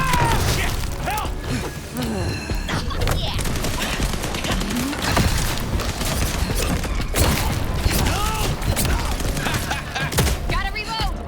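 Heavy gunfire erupts during a fight in Vampire: The Masquerade - Bloodlines 2, with dense, rapid bursts and mechanical clatter filling the scene loudly and continuously, and voices shouting amid the shots.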